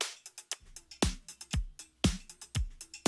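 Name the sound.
drum break sample with low end removed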